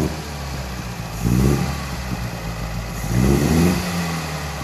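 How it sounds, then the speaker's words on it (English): A 1933 MG J2 engine idles with a low, steady rumble and is revved twice, each blip rising and falling smoothly over about a second, close by and alone with no voices. "You can hear the engine sounds great."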